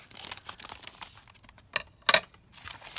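Scissors cut along the bottom of a padded bubble-wrap envelope, giving crinkly, crackling plastic and paper noises with a couple of sharper snips and rustles, close and alone.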